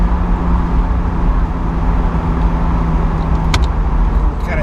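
A BMW Z3 with a transmission that is slow to shift drives along, giving a steady, close engine and road drone with no clear gear change.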